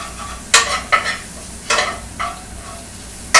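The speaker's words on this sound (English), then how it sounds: "I'm going to coat the sausage with the flour" Flour being stirred into sausage grease in a frying pan for sausage gravy, with four or five distinct scraping stir strokes over a steady close sizzle, no talking.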